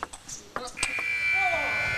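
A steady electronic buzzer sounds at the end of a professional table tennis team match and holds for about a second, after a few sharp ball and paddle hits and a commentator's voice.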